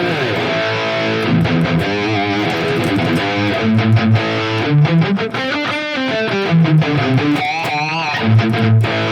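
High-gain electric guitar played through a Randall Satan amp model on a Mooer GE300, loud distorted riffing with chugging palm-muted chords and sustained notes, alone with no talking.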